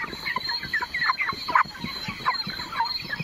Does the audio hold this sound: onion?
no